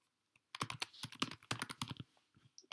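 A computer keyboard is typed on in a quick close burst of clicking keystrokes lasting about a second and a half, then trailing off into a few lighter taps.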